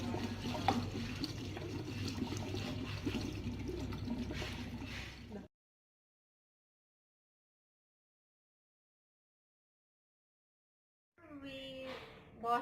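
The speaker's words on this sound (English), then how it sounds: "We wash the black sticky rice." Water runs and splashes while black sticky rice is washed in a kitchen, a steady pouring rush for several seconds, then a long silence, and the splashing returns briefly at the end.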